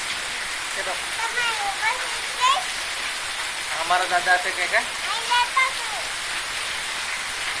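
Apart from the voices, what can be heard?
rain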